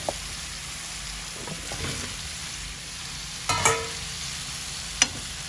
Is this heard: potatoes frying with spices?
yes